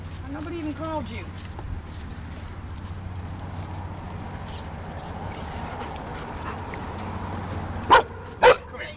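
Two short, sharp barks from a Labrador ring out close by near the end, following quieter whining and outdoor ambience while people talk.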